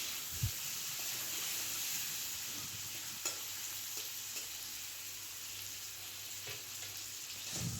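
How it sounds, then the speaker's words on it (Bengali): Cut potatoes seasoned with salt and turmeric fry in hot oil, giving a steady sizzling hiss with occasional stirring clinks, close and fairly quiet, without speech. "আর তেলটা গরম হয়ে গেলে কেটে রাখা আলুটাও ভেজে নেব।"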